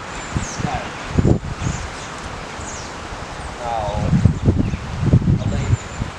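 Leaves rustle and scrape as cold wind gusts past the microphone outdoors, with a few faint bird chirps and some low thumps in the background.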